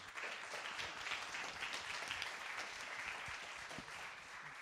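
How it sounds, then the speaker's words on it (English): Steady crowd applause at a developer event, a continuous even patter of many hands clapping at moderate volume from start to finish. "round of applause to Sipo, everybody"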